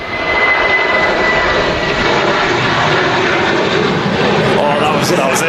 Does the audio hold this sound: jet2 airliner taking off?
yes